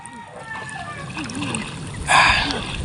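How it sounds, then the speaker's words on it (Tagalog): Water splashes from someone swimming in cold, deep water outdoors, with a loud burst of splashing near the end over softer sloshing, while people talk throughout. "Wilson, langoy Wilson."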